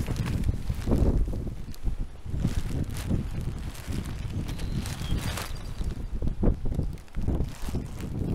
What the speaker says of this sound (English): Because the wind's blowing,